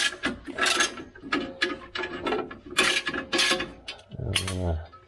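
Ratchet loosening the transfer case plug on a Chevrolet Colorado: several bursts of rapid clicking, close and fairly loud, separated by short pauses, ending in a lower grinding turn.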